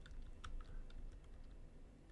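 Typing on a computer keyboard in a dark room, a quiet run of irregular key clicks over a low background hum, close and soft.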